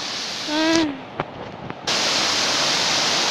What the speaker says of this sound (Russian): Шумный водопад, конечно, очень шумный.